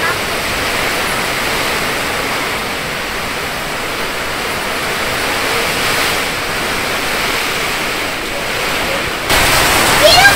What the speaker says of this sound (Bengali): এই পাশে আবার ঝড় উঠে গেছে